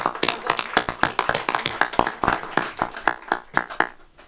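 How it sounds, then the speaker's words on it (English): Applause at a board meeting, a small group clapping in quick, fairly loud and irregular claps that run steadily throughout with no voices over them. "let's give a round of applause"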